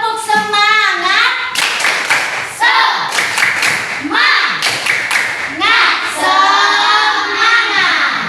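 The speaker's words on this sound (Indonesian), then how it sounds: "Coba tepuk semangat." Children in a fifth-grade Islamic studies class perform the rhythmic tepuk semangat spirit clap, close loud bursts of patterned hand claps alternating with chanted singing voices in a repeating call-like rhythm.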